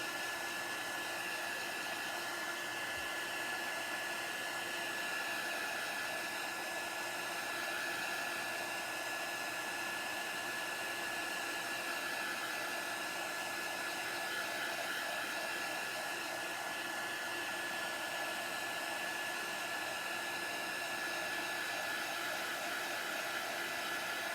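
A heat tool runs steadily, drying ink on a transfer laid over a craft mat, with a continuous broadband whoosh at even loudness held the whole time with no talk.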